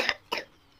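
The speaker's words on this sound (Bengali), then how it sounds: "এখনো কাশি ছাড়েনি, দেখেছো?" Two short, close coughs in quick succession from someone with a lingering cough, each a sharp breathy burst, followed by quiet.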